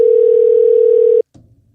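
A steady telephone dial tone holds for just over a second while a call is being placed, then cuts off abruptly, leaving faint low background sound.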